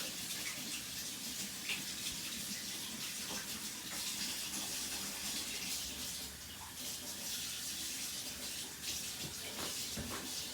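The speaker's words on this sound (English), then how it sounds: "going to get a little hot water from the tap" Hot water runs from a kitchen tap in a steady, soft rushing stream that continues for several seconds at low level, with faint kitchen noises around it.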